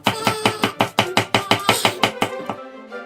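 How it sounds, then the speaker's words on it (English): Knife chopping through simniko on a cutting board for spicy Japanese dumplings, a steady run of about fifteen crisp, close, evenly spaced strokes that slow and fade out at the end. "I'm gonna chop the simniko."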